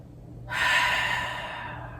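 A long, breathy exhale during a seated twisting yoga stretch, rising abruptly after a quiet moment and slowly fading over about a second and a half, close and fairly soft with no talk.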